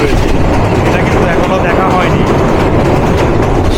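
Nilsagar Express train running on rails in the rain, a loud continuous rumble and rattle heard from on board, with a voice talking over it.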